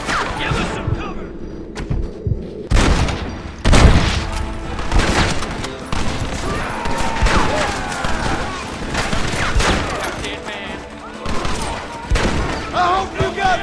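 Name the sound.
gunfire in a shootout, from the video game Red Dead Redemption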